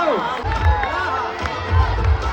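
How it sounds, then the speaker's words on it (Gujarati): A crowd at a public appearance by film stars in Mehsana, India, gives a short, dense burst of cheering and shouting with some clapping mixed in, loud and continuous throughout. "તાળીઓ થવી જોઈએ, તાળીઓ."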